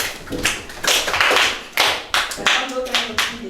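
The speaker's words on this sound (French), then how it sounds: "Applaudissez pour elle." A small group at a youth training session on drug prevention claps in short, uneven bursts. The claps are close and loud, and there is some voice and movement noise among them.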